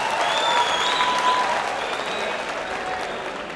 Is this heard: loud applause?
yes